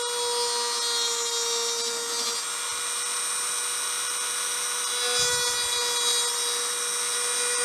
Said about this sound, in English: Now I'm going to work down along the recoil lug surface.